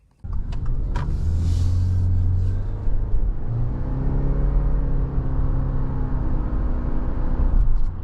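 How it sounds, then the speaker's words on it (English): A 2025 Subaru Forester Hybrid Touring drives on the road, a steady low engine and road rumble from inside the cabin with a smooth, even hum and a faint rise in pitch midway. "let's go take this thing on a drive and see how this hybrid powertrain feels out on the road"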